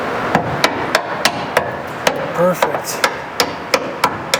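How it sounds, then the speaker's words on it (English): Hammer tapping a bushing into a bracket on a 1969 Ford LTD, a steady series of about a dozen sharp metallic taps at an even rhythm, close up, with a short spoken word in between. "Now we have just to pull the bushing in and just use the hammer a little bit."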